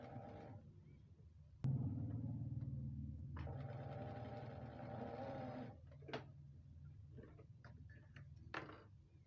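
A sewing machine stitching a ladies' trouser runs in a short burst of mechanical whirring and ticking, quiet and close, followed by a few scattered clicks and handling taps.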